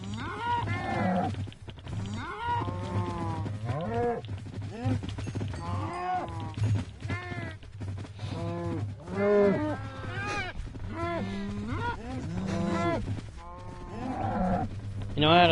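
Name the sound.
cows mooing in the video game Minecraft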